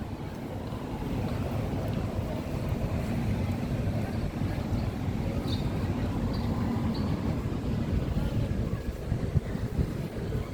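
A steady low drone of a ferry engine churning continuously, with wind and water noise over it and no talking.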